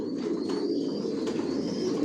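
Racing pigeons in a loft give a steady, close murmur of low cooing that runs without a break, with faint higher chirps now and then over the top.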